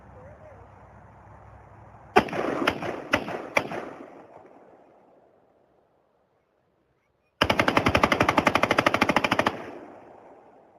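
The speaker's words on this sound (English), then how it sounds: "I'm gonna shoot semi first." A firearm fires in semi-automatic mode: a group of four loud, separate, sharp shots, then a long rapid string of near, loud shots after a quiet pause.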